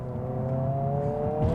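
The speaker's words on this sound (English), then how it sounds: "the auto rev matching" A 2022 Honda Civic Si engine blipping during an automatic rev-matched downshift on a bumpy road, a steady droning engine tone heard from inside the cabin that rises slightly at the end.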